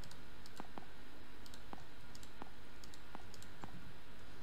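Light, sparse key clicks on a computer keyboard as a word is typed, a handful of separate taps over a steady background hiss with no speech.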